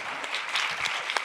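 Audience at the FIFDH 2025 opening ceremony clapping, a brief burst of dense applause with a few sharper individual claps standing out, steady and fairly loud.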